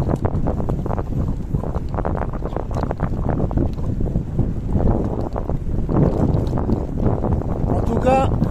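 Strong wind buffets the microphone on a beach-side cycling tour between Xeraco and Calp, a loud, continuous roaring rush that swells and dips throughout.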